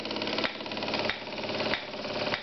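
Old East German EPD stationary engine running on its new washers, a steady mid-pitched mechanical chug with a regular knocking beat, close and continuous with no talk.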